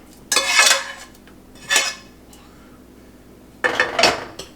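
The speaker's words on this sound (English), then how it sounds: "Right here, I got the onions that are grilled. I'll just add these straight on top." Grilled onions go into a pot of chicken and potato soup, giving three short clattering bursts of utensil and pot noise separated by quiet gaps, close by with no talking.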